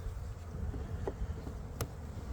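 A continuous drone of honey bees buzzes close by in a hive, the hum of many insects layered together with a few faint clicks.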